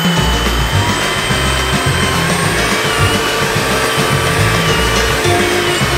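A JIMMY H8 Flex cordless vacuum cleaner runs loud and close as it sucks up talcum powder, giving a steady high motor whine and airflow rush with slight pulsing, and no talk.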